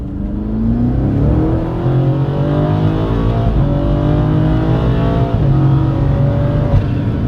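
An engine-swapped BMW M135i with an 800 hp twin-turbo V8 and all-wheel drive pulls hard under acceleration, a loud, continuous rising roar heard from inside the car with a couple of brief shift dips.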